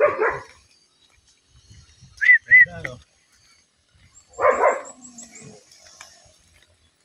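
A couple of sharp dog barks ring out at moderate distance on a hillside farm, with people talking nearby before and after.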